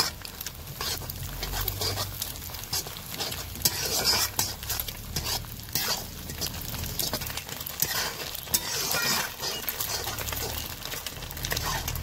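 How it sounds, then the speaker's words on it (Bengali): An egg fries in oil for a village-style jackfruit seed dal, giving a steady sizzle with scraping and stirring of a utensil against the pan, continuous and close throughout. "আর একটু লাল করে ভেজে নেব ডিমটা"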